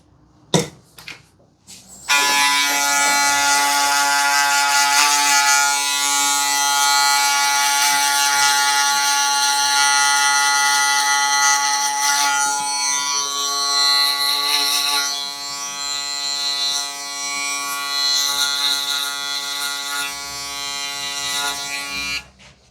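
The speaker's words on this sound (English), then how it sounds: "Then I like to hit this line with the shaver." An electric shaver drones against hair while a taper fade line is cut, a steady high buzz starting after a couple of seconds of near silence and holding close and loud, shifting slightly in pitch as it moves.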